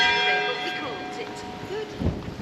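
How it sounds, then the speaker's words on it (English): A church bell rings in Lancaster, sounding as sustained overlapping tones with a long ringing decay, moderately distant, while someone speaks softly over it. "There's the bell."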